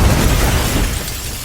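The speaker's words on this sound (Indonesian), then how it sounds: "setelah ledakan tersebut" Explosion in an action film, a loud, dense roar of blast and debris that fills the whole brief moment and barely fades, heard alone without speech.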